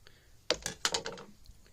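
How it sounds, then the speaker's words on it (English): Scissors snip through a leather cord wrap in two quick, close cuts, short crisp clicks with a small rustle between them, alone in a quiet room. "Now we can cut this with the scissors."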